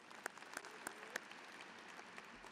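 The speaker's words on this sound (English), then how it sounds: "Big round of applause." A graduation audience claps for a record-breaking 4x100 relay team, thin and faint, with a few sharper individual claps popping out early before the sound settles into a soft, sparse patter.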